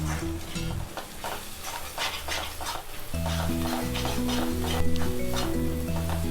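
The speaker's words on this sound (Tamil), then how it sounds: "பச்சை பட்டாணி எண்ணெயிலே சேர்த்துடலாம்" Green peas fry in hot oil in a pan while making masala paniyaram, a steady sizzle with stirring scrapes and light utensil taps, which grows louder halfway through.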